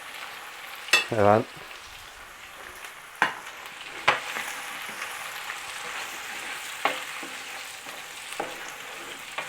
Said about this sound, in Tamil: இப்போ வெங்காயத்தை போடுவோம்.